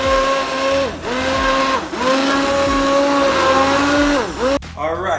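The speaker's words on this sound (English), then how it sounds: "after I put the soup in the handheld blender, I got it to the consistency I want" A handheld blender purees tomato soup with a loud, steady motor whine close by. The pitch dips briefly several times as the blade meets resistance, and the motor cuts off near the end.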